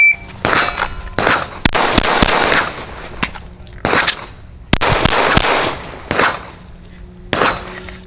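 Rifle shots crack repeatedly at an outdoor shooting range, sharp loud reports spaced a second or so apart, each with a short echoing tail and a few faint sounds between.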